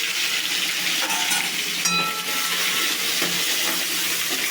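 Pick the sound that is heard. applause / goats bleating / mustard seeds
mustard seeds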